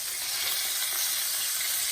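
Breaded chicken for chicken Parmesan frying in a pan of oil, a steady dense sizzle and crackle that stays even throughout with no voices.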